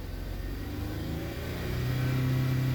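Close, steady engine drone of a 2015 Ford Fusion Titanium being revved to about 2,500 RPM, the tone climbing and growing louder toward the end with no voices.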